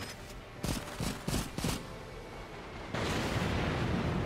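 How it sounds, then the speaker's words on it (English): Airstrike explosions in Cepheus Protocol: several sharp, separate blasts land in quick succession, followed by a steady, broad roar of rumbling detonations in the distance. "Radio operator. We need a airstrike."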